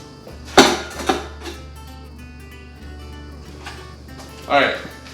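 Cans of fruit clank open and their contents get tipped into buckets for blackberry brandy, a few sharp metallic knocks and a wet slosh near the end, with a voice talking underneath.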